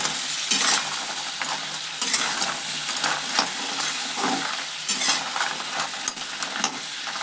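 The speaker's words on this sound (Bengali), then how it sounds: "নুন হলুদ মাখিয়ে ম্যারিনেট করা কাঁকড়াগুলো দিয়ে ভালো করে কিন্তু একটু ছেড়ে ছেড়ে ভেজে নেব" Marinated crabs rubbed with salt and turmeric fry in mustard oil in a wok, a steady close sizzle with bursts of crackle and occasional stirring scrapes, with no voices.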